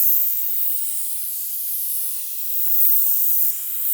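An airless paint sprayer coats a house exterior in overlapping passes, giving a steady, close, high-pitched hiss that swells and dips slightly with each stroke, with no voices.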